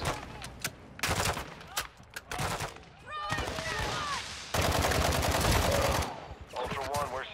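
Shotgun blasts and other gunfire in a shooter video game go off loud and close in several separate bursts, mixed with game effects and someone talking between the shots.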